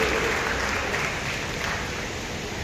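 Sustained applause from an audience at a pledge ceremony at Mahatma Gandhi Central University, steady dense clapping that slowly fades slightly in loudness.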